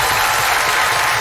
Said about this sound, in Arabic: الجمهور بيسقف لك